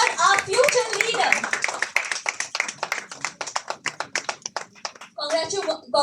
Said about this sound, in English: I request everybody to give a huge round of applause for our future leader